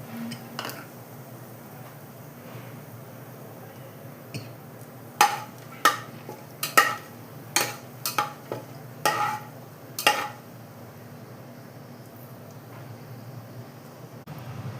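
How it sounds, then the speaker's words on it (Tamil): Bay leaf, cinnamon, cloves and cardamom crackling in hot oil for a pressure-cooker prawn biryani, a faint, steady sizzle with a run of sharp spoon clinks and stirs in the middle. "எண்ணெய் காயட்டும் பிரிஞ்சி இலை பட்டை கிராம்பு ரெண்டு ஏலக்காய் சேர்த்துட்டோம்மா எண்ணெயில்"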